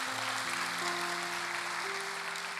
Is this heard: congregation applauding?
yes